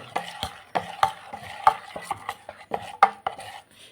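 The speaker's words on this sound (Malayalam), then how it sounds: "ഉപ്പും കാര്യങ്ങളൊക്കെ ചേർത്ത് കൊടുത്തു നമ്മളിനി ഇളക്കി കൊടുക്കുകയാണ്" Dosa batter made from ration-shop rice being stirred with salt in a bowl, each stroke a wet knock or scrape against the side in an uneven, close rhythm.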